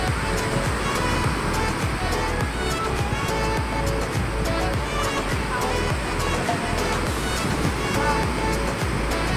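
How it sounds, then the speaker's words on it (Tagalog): Large ocean waves crash onto a shore one after another, a loud, continuous roaring surf close by with rolling surges and faint voices in the background. "sunod-sunod na ang malalaking alon"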